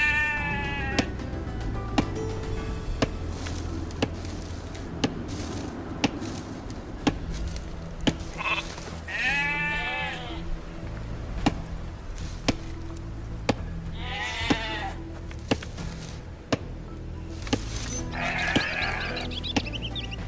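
Sheep bleat a few times in Age of Empires 2 on Xbox Series S, mixed with sharp repeated chopping thuds from villagers gathering wood and a steady game ambience.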